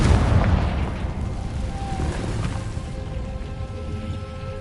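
A Confringo fire-spell blast in Hogwarts Legacy lands as a loud, rumbling explosion that fades into a sustained low roar over several seconds.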